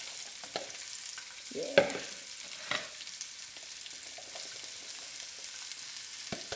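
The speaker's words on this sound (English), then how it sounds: "So it's one whole onion and one whole pepper. And we're gonna cook that down for maybe 10 minutes or so." Onion and pepper sauté in oil in a pan with a steady soft sizzle, broken by a few stirring scrapes and clatters and one brief spoken word.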